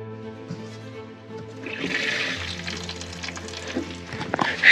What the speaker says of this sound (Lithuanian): Štai bėga vandenėlis